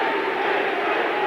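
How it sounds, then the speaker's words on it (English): Huge rugby league crowd at a 1988 World Cup semi-final between New Zealand and Great Britain, a dense, steady roar that swells continuously throughout with voices blending into a chant. "the huge crowd starting to roar, Kiwi, Kiwi"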